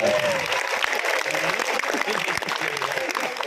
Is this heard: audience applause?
yes